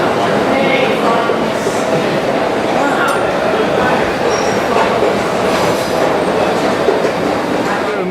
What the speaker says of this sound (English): There's a Eurostar coming from somewhere here, a bit unexpected